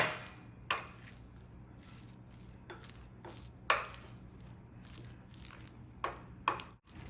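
Butter and chopped coriander being mixed with a fork in a bowl, heard as a few sharp metallic clinks and taps spaced apart over a quiet background, with no talking.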